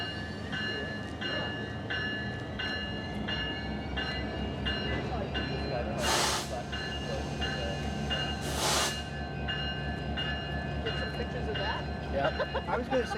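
A Canadian Pacific freight train, F-17, rolls past on the Rockland Subdivision, a steady rumbling clatter of wheels and cars with two brief bursts of hissing air partway through, fairly close and continuous.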